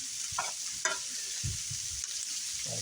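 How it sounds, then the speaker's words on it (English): Garlic and onions frying in a pan while being stirred, a close sizzle with several bursts of scraping as the spoon moves through them. "Stir it up really nice."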